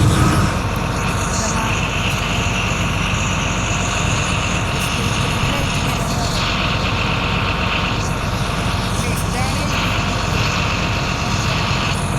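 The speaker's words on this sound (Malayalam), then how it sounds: "നമ്മുടെ എഞ്ചിൻ സ്റ്റാർട്ട് ചെയ്യുന്നുണ്ട്" A large bus engine in a Kerala bus driving simulator game rumbles steadily and loudly, with no talk, the idle continuing evenly throughout.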